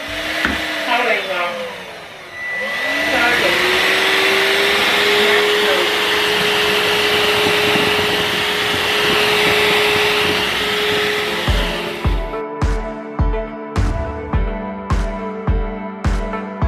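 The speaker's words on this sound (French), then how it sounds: "J'ai laissé volontairement le bruit pour que vous voyez à peu près ce que ça donne" A robot vacuum whirs steadily and loudly for several seconds, then stops, followed by a series of sharp rhythmic clicks and knocks.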